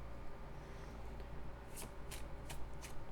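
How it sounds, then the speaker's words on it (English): Tarot cards being shuffled close up, with four quick riffling bursts near the end over a low steady background hum. "I'm going to draw some tarot cards just to see"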